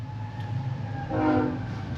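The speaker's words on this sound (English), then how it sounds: "And here's the train." A train passes nearby with a horn sounding briefly, a low rumble of rail cars underneath, heard from inside a house crawl space without talk.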